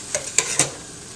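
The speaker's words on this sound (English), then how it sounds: "Stir that around." Curry spice dry rub, about four to five tablespoons, stirred in a hot pan: three quick scraping strokes over a light sizzle, then quiet.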